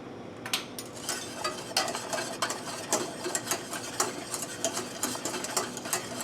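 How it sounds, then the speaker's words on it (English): Pure vanilla extract being mixed into a homemade vanilla ice cream base, a steady rhythmic whirring and clinking of mixing in a bowl, moderately close and continuous with no talk over it. "go ahead and put it in there, and go ahead and give it a good mix"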